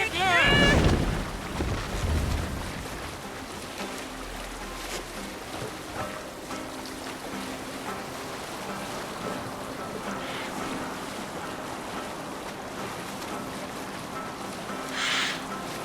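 A Viking longship sails the open sea in Assassin's Creed Valhalla, a steady broad rush of wind and waves washing against the hull, loudest in a brief surge at the start and holding a constant moderate roar throughout.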